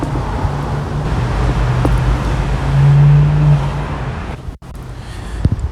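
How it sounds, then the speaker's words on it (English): Steady roar of street traffic with cars passing close by, a vehicle rumbling louder midway, continuous road noise throughout. "There's cars everywhere."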